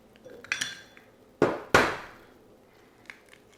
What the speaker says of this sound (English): 2 eggs, basically. Going to crack those. Get them in there first. Get them beaten.